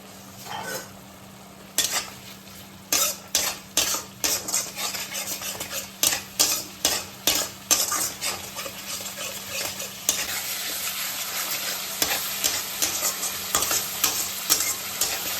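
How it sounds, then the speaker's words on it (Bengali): A spice paste of turmeric, chili powder and ground onion is stir-fried in oil in a pan, with a spatula scraping in quick rhythmic strokes over a steady sizzle. "মশলাটা যতক্ষণ না তেল ছেড়ে বেরিয়ে আসে ততক্ষণ মশলাটা কিন্তু কষছে"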